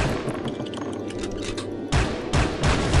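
Anti-aircraft gunfire in the Soldier of Fortune video game: a steady, dense rumble of rapid shots, with several louder booming bursts near the end, and no talking.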